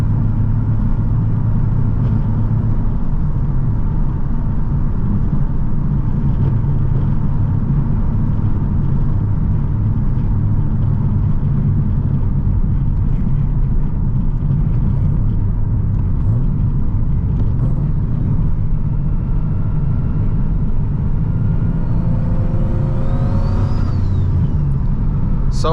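A turbocharged Nissan 370Z driven from inside the cabin, a loud continuous low engine rumble and road drone throughout, with no talking.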